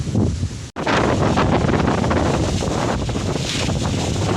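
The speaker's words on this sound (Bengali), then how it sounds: "এখন হালকা আবহাওয়া, সম্পূর্ণ একটি বাতাস বইছে।" Strong wind blows before a storm under a cloudy sky, buffeting the microphone in a loud continuous roar with a brief dropout near the start, no voices heard.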